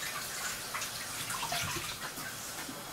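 Water runs steadily from a tap as hands are wetted while beignets (mikate puff-puff) fry, a continuous close splashing hiss with no talk.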